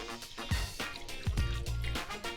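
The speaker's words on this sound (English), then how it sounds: "Next, I'm gonna pour in some chicken broth." Chicken broth is poured into a pan of blackened chicken for enchiladas, making close, wet gurgles and splashes that come in a few uneven bursts.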